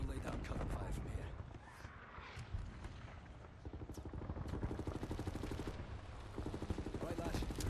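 Sustained, dense gunfire from the video game Wolfenstein: The New Order, with rapid bursts of automatic weapons and booming shots rattling continuously and loudly throughout, beneath speech.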